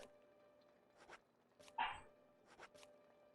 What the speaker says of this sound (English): They are barking outside. There's a bunch of dogs at my house right now.